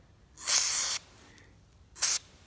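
Two short hissing bursts from a lubricant spray can aimed at a garage door hinge, the first about half a second long and the second briefer, in an otherwise quiet space.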